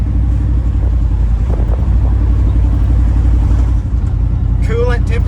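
A Chevrolet C1500 pickup in fourth gear at about 30 mph, engine running rich with a little too much fuel, drones loud and steady under wind noise, with a brief dip near the end as a voice speaks.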